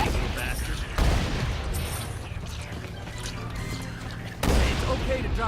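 Two heavy shotgun blasts in the video game Saints Row: Gat out of Hell, one early and one near the end, sit over a busy wash of combat noise with voices talking.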